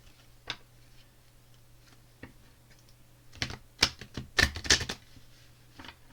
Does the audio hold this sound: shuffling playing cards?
yes